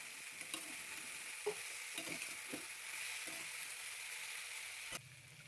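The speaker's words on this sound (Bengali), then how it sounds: "এর মধ্যে এবার ভেজে রাখা ব্রোকলিটা দিয়ে দিলাম।" Already-fried broccoli is stirred in a frying pan, a soft, quiet sizzle under a series of scraping and clinking stirs, ending with a sharp knock against the pan.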